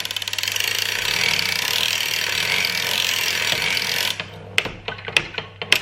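A circular sock knitting machine's cylinder is worked back and forth, first giving a steady mechanical whirring drone, then a series of separate clicks and clacks, all close and loud with no talk.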